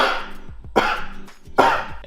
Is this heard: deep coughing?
yes